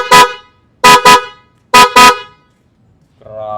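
A loud, harmonic Blaupunkt shell horn on a Geely Okavango honks five times in short bursts, one then two pairs, followed by a lower sustained tone at the end.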